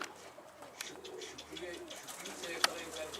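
Soft, low coos of a fancy flying pigeon with eagle-wing markings repeat quietly against faint background noise, with a brief sharp click near the end.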